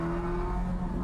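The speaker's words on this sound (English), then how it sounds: "choppy V8 idle" Chevrolet Corvette Z06 V8 engine, a close, steady loud hum with a strong tonal whine, heard briefly and alone.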